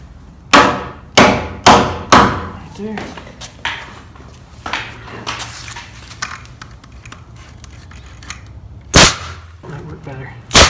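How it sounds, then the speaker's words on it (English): Hammer blows drive wall framing into line during a garage-to-apartment conversion, a run of sharp close wooden strikes in quick succession, then scattered lighter taps and a final hard hit, with people talking between blows. "And then hammer it to the line."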